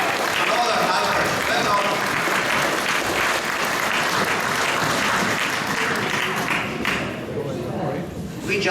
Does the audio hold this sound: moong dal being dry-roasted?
no